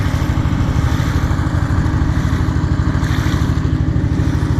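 A steady, loud trawler engine chugs with a rapid regular pulse, running close by without pause on Tanguar Haor wetland near the watchtower.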